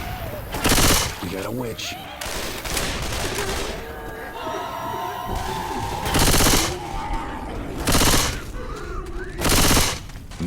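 Bursts of gunfire from Left 4 Dead 2 ring out in the zombie shooter, several loud volleys spaced across the clip over a busy game soundscape, with voices calling out between shots.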